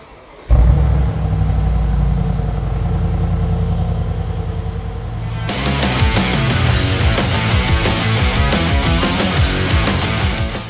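An 800 hp Brabus Mercedes G63 with carbon fibre bodywork fires up with a loud burst and settles into a deep idle, then about halfway through breaks into repeated aggressive revs, loud and close with no talking.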